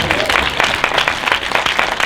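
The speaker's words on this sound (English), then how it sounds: "Round of applause." Audience applause at a Doc'n Roll Festival Q&A screening, a dense steady patter of many hands clapping filling the room for about two seconds, with faint voices mixed in.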